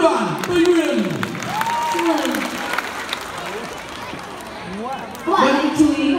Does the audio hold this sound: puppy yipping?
no